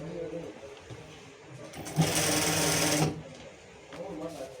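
A sewing machine stitches a front panel in a tailor shop, running in one steady loud burst of about a second between quieter stretches, with a voice talking nearby.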